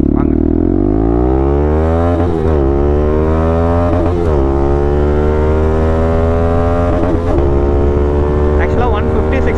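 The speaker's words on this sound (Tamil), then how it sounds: "இந்த BS6ல் அதுவும் இந்த எக்ஸாஸ்டில் ஏன் இந்த அளவு ஒரு சூப்பரான சவுண்ட் கேட்குதுங்கிறது சத்தியமாக தெரிய மாட்டேங்குது" A modified Bajaj NS200 motorcycle with an aftermarket exhaust roars loudly up close, revving and climbing repeatedly with brief dips between pulls, a deep, throaty drone that stays loud throughout.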